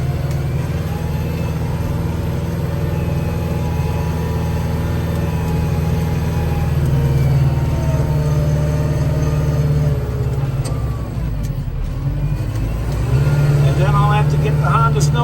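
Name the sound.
vehicles being driven out during winter storm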